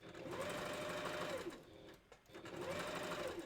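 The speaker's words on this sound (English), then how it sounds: "I'm going to stitch this, and make sure it's in the right spot." A sewing machine stitches a furry wolf handpaw partial at a fast, steady whirring rhythm, pausing briefly in the middle and then starting again, close up and clear.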